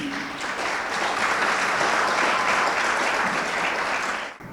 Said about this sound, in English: Applaud yourself, please.